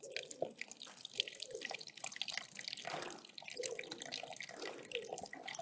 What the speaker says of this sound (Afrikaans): Ek gaan dan nou eers al die water uitgooi wat ek ingegooi.